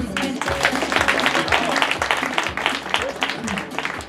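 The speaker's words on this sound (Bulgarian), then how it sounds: "аплодисменти за Ива" An audience applauds for Iva with a steady, dense wash of clapping that carries on for several seconds, while voices are heard through it.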